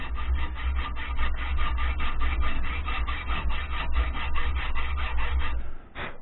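A hand saw cuts a series of kerfs across a piece of wood in a gunsmith's shop, a loud, close, rhythmic rasping of steady back-and-forth strokes, about twenty in quick succession before stopping.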